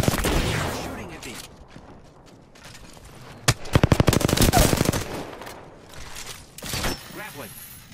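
Rapid bursts of automatic gunfire in a video game battle, loud and close, with a dense rattling volley in the middle and scattered shots before and after.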